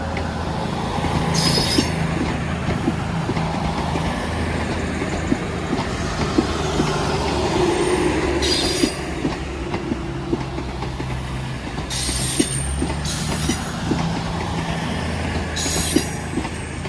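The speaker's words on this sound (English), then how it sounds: "Here's a 10:55 Avanti West Coast service to London Euston from Holyhead" An Avanti West Coast train to London Euston from Holyhead rolls through Crewe station, a loud, continuous rumble of wheels on rail with intermittent high squeals and clatter.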